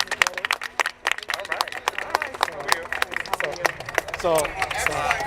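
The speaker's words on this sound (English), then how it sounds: "So yeah, clap." Audience clapping in honor of a guest's mother at a gathering, scattered sharp claps that grow into a ragged round, heard close alongside crowd chatter and voices talking over it.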